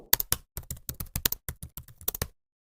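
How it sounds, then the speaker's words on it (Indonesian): Rapid, hurried typing on a computer keyboard as a drama sound effect, close and crisp, with irregular bursts of clustered key taps that stop abruptly, leaving silence. "Jari-jarinya bergetar, mengetik terburu-buru di atas keyboard."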